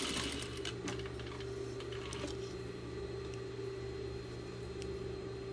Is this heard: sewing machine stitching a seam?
yes